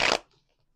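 A deck of tarot cards is shuffled in one brief, soft riffle of papery flutter that stops abruptly and leaves near silence.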